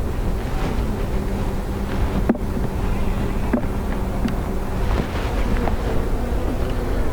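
A dense, steady drone of honey bees buzzing around an open, crowded hive, loud and close throughout, with a few faint handling knocks.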